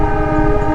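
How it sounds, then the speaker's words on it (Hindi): Loud, sustained blast of a horn from the old toy train passing through misty hill country, a steady droning tone that fills the whole short moment, heard close with no talking. "So this is the toy train."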